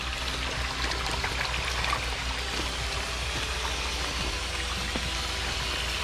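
Water flows steadily through a three-barrel koi pond filter system, a continuous trickling and splashing stream with a low rushing bed underneath, close and constant with no voices.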